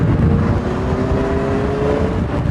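A 2016 Kawasaki Versys 1000 motorcycle engine accelerating on a motorway, a loud continuous roar with a rising engine whine under heavy wind rush.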